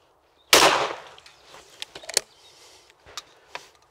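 A single shotgun blast aimed at a rolling clay rabbit target, one sharp loud report with a decaying tail outdoors, followed by faint scattered clicks and knocks.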